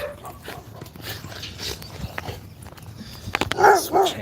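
Several large dogs barking from a house near an outdoor walk, a few loud barks bunched near the end over steady street noise and footsteps.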